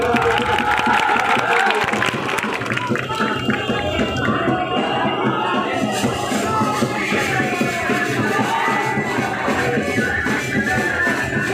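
A large crowd at a political rally in Jahanabad claps and cheers loudly and continuously, a dense wash of applause with shuffling and scattered voices throughout.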